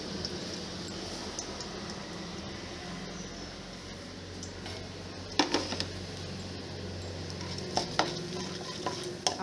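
Mustard seeds and seasoning seeds sizzle steadily in hot oil for a drumstick curry, with a close, continuous frying hiss and scattered sharp pops and crackles that grow more frequent toward the end.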